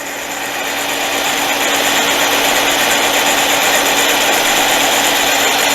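A Frankford Arsenal case trimmer and prep center cuts brass cartridge cases with a steady, loud motorized whir that runs without a break, with no talk over it.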